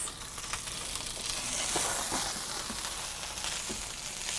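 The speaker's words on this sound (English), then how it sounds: "So you can hear it sizzling quite a bit" Wood-roasted salmon sizzles steadily and fairly loudly, a continuous crackling hiss with small pops and no talk over it.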